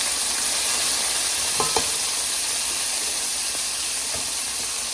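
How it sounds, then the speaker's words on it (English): Garlic sizzles in hot oil in a frying pan, a steady loud hiss throughout with a few clicks of stirring near the middle and end, no voices. "I've got a pan heating up some oil, and we're going to throw in some garlic"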